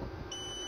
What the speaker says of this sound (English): Press it until it beeps